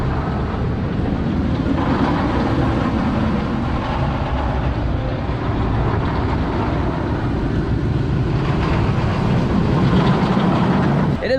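B&M Kumba roller coaster train at Busch Gardens Tampa rattling and roaring loudly and continuously throughout the ride, heard from on board.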